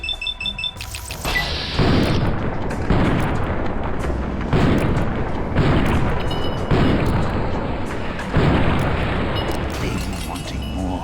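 Heavy booming gunshots from the Fallout: New Vegas video game, a series of loud, repeated blasts with a long reverberant tail, sounding continuously across the clip.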